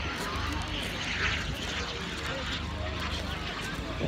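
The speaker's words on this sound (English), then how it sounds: "that's the sound of planes in the air." Aircraft drone steadily overhead near an airfield in Carew, Pembrokeshire, a continuous engine hum forming a moderate background with crowd noise around it.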